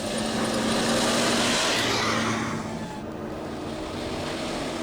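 Off-road rally car running along a dirt track at the Hub Rally, a broad engine roar mixed with wind that swells and then eases slightly, with no talking.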